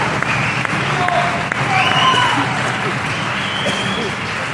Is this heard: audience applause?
yes